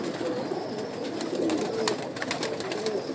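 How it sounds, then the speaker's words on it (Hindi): A pigeon perched on a person's hand coos in low, repeated rolling calls at close range, steady throughout with light background noise. "कैसे हाथ में बैठ रहा है कबूतर"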